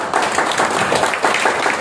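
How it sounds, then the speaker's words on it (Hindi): Audience applause at a talk on direct selling, a steady wash of many hands clapping together for a short burst, fairly close and filling the room, with no voices over it. "आप एक बार ताली दे सकते हैं"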